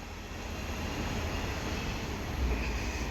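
A British Rail Class 331 electric multiple unit passes at Newton-le-Willows on the Chat Moss line, a steady, loud rushing roar of wheels and motors close by, holding constant throughout.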